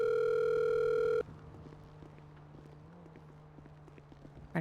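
A telephone dial tone in the GTA video game sounds loudly and steadily for about a second, then cuts off abruptly, leaving quiet background hum with faint clicks.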